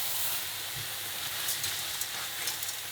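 Rice fries with garlic and tomato in a pan for squid ink paella, giving a steady, bright sizzle and hiss with light stirring noises throughout. No one speaks.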